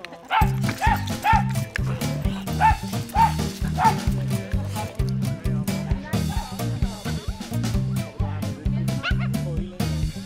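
Border Terriers on a group mountain walk bark loudly and repeatedly in quick overlapping bursts, with a few higher yips and whimpers mixed among the close, energetic barking.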